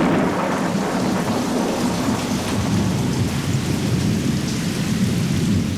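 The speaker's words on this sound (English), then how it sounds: "Then the rains come." Heavy rain and rolling thunder in the Peruvian rainforest, a steady, dense downpour with deep rumbling sustained at close range throughout, with no voices.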